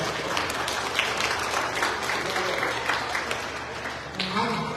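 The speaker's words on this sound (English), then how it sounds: "I wanted to give a special round of applause to Brother Derek and Brother Samir." An audience at a mosque Ramadan event applauds with steady, dense clapping for several seconds before it tapers off.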